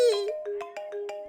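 A phone ringtone plays a short melodic sequence of bright repeated tones, clear and close, lasting just over a second with no voices.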